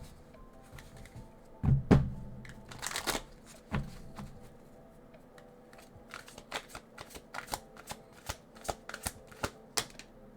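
A deck of oracle cards is shuffled in a quiet room: a few loud riffles and thumps early on, then a steady run of crisp, close card flicks and taps toward the end, with no talking.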